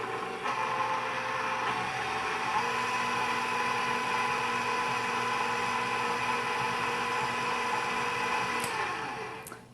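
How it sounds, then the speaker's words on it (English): An electric kitchen mixer beats a stick of unsalted butter in a bowl, giving a steady, loud motorized whir with a constant high hum that runs unbroken for nearly ten seconds before cutting off. "So 1 stick unsalted butter. Let's just beat this."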